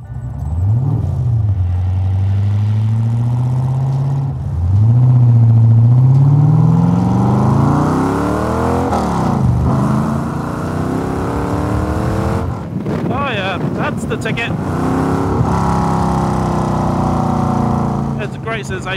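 Nichols N1A sports car engine revving and accelerating through repeated rising sweeps, loud and close, with gear changes and someone talking over parts of the run.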